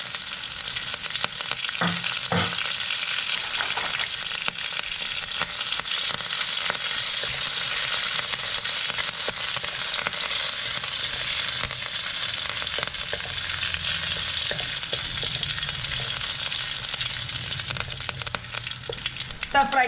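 Mixed spices, dried chili, onion and curry leaves stir frying in hot oil for gongura leaf chutney, a continuous bright sizzle with occasional scrapes and clatters of a spatula against the pan, close and steady throughout.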